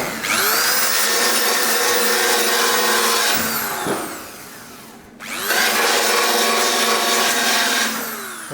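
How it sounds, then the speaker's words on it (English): A belt sander works a rally car panel made of welded sheet steel, giving a loud, steady abrasive whine in two long passes with a brief drop between them. "Belt sander."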